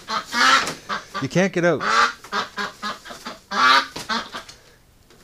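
A duck at a winter creek honks loudly and repeatedly in close, nasal bursts, with a voice talking over and between the calls.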